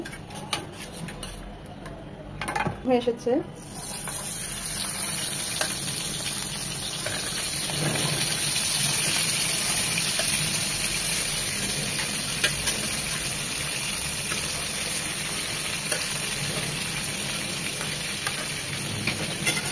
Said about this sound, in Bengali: মাছগুলো ভাজার জন্য প্যানে দিয়ে দিচ্ছি সয়াবিন তেল